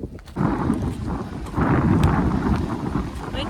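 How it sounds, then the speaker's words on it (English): Strong gusts batter an outdoor microphone on a hiking trail near the Hudson River, producing loud continuous rumbling wind noise that swells and surges throughout. "Definitely couldn't use an umbrella because it's way too windy."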